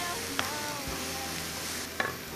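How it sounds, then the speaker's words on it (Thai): Mushroom filling for Thai mushroom pouches is stir-fried in a pan, giving a soft continuous sizzle with a couple of faint spatula clicks against the pan, fairly quiet and steady. "ผัดให้เข้ากันนะคะ"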